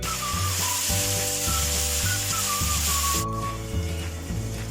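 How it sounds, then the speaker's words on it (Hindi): Chopped tomatoes hit onions already frying golden in oil in a pan, a steady loud sizzle and hiss that runs on alone, with background music playing. "अब ऐड कर देंगे टमाटर।"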